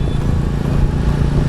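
Goan Classic 350 motorcycle engine running while riding on an open road, a steady low thumping drone held loud and close without a break.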